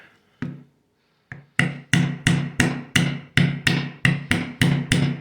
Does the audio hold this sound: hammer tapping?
yes